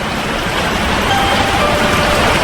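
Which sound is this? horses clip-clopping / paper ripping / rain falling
rain falling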